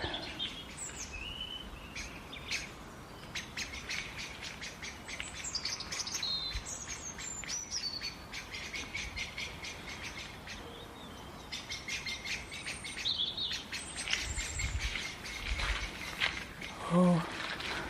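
A blackbird sounds its rapid, rattling alarm call outdoors, repeated chattering bursts at moderate distance over a quiet background hum, with a few other faint chirps around it.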